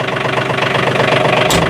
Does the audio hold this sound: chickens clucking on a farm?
no